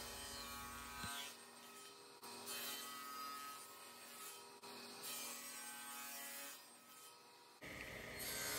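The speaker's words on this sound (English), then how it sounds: "I'll cut it down to size using the crosscut sled on my table saw. And I'll go ahead and cut the other two" A table saw with a crosscut sled cuts hardwood boards to length, giving several spells of steady whirring blade noise broken by short pauses, loud and close, with a harsher burst at the very end.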